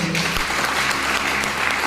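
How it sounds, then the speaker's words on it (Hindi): Loud, steady applause from an audience at an AWPL meeting, dense continuous clapping that fills the hall for about two seconds without a break. "मैं चाहूंगा जोरदार ताली होनी चाहिए"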